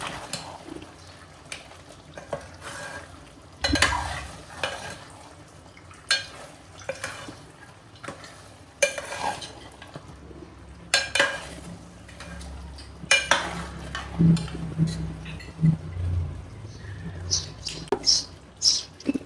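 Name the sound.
stirring and mixing mutton curry in a pan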